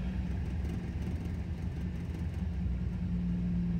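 A 1974 Dodge Dart engine idling after five years of storage on old gas, a close, steady low rumble with an uneven, shaky pulse and no voices.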